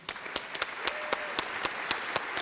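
A church congregation applauding at a Sunday service, a short burst of separate, fairly sparse hand claps with a loose, uneven rhythm, close and distinct rather than a dense roar.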